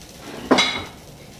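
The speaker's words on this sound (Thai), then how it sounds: "เราก็ใช้กระทะแบบนี้เลยนะครับ" A metal frying pan for cooking Thai crispy fried oysters is picked up and set down with a single sharp clank in a kitchen, close and brief against quiet background.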